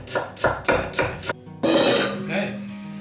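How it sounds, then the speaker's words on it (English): A knife finely slices red cabbage on a board, a run of sharp evenly spaced chops followed by a longer scraping rustle as the shreds are moved. "And then just finely slice this cabbage."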